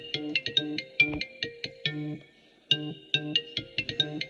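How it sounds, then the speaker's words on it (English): A mobile phone rings with an incoming call, a loud electronic ringtone of rapid chirping bursts in two repeated phrases separated by a short pause, with no voices over it. "Getting a phone call while we're videoing."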